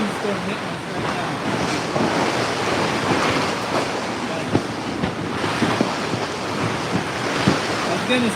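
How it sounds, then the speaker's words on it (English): A windstorm roars across an Alaskan shipyard, steady loud gusts buffeting the microphone while waves wash and slap nearby, with a few sharper knocks and thumps. "windstorm hitting us right now"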